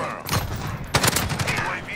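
Gunfire from a weapon in Call of Duty, heard as a burst of rapid automatic shots followed by a second volley, loud and close, with faint game effects behind.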